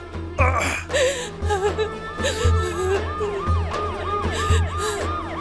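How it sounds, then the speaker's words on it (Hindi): Ambulance siren arriving during a tense dramatic scene, a repeating wailing tone sweeping up and down over steady low pulses, fairly loud and continuous throughout, with brief voices and whimpering mixed underneath. "चलो, एम्बुलेंस आ गई है।"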